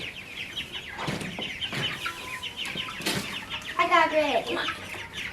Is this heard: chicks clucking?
yes